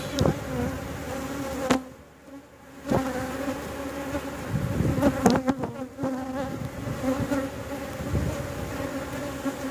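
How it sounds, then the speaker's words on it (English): Honeybees buzz at an open backyard hive during an inspection, a dense close swarm drone that dips briefly and returns, with faint clicks and knocks of frames being handled. "Lots and lots of bees."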